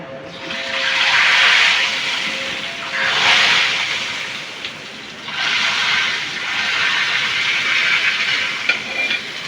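Hot roghan oil poured into nihari makes loud broad hissing sizzles that rise in several swelling waves of a second or two each, steady and close.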